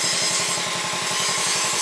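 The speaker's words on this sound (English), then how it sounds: "Dad's sharpening the blade" A lawn mower blade for a Bolens 1256 tractor is being sharpened, giving a fast, rhythmic rasping grind that repeats evenly through a short, loud burst.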